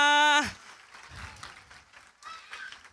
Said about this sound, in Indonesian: berikan tepuk tangan yang meriah buat anak-anak kita semua